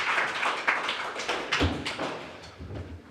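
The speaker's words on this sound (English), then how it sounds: "give him a big applause" Audience at a business talk on AI clapping for a presenter, a brief burst of scattered handclaps with a few louder thumps, fading near the end.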